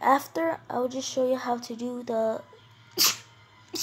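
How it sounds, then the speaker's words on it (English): A sharp sneeze bursts out right after a stretch of talking, followed by a softer breathy sound. "I just kind of had to sneeze there"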